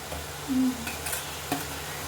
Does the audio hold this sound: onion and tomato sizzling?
yes